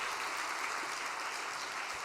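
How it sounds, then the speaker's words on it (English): An audience gives a faint, even round of applause, the clapping blending into a steady wash of sound with no voices. "Why don't we give her a big round of applause?"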